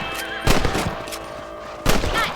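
Two sharp rifle shots ring out about a second and a half apart as rabbits are hunted in Red Dead Redemption, each followed by a short echoing tail over faint background ambience.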